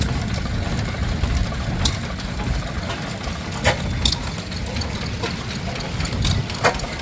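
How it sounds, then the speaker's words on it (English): An Austral side shaft stationary engine runs steadily at a vintage engine display, its low, continuous chugging drone filling the scene with faint sharp ticks now and then. "Here we've got an Austral. Another side shaft engine."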